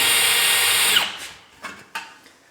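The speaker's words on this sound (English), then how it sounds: "This is still in hammer drill mode from putting the old Rogue up behind me in the concrete." A hammer drill set to hammer-drill mode whines loudly for about a second, then spins down. Two faint knocks follow in near silence.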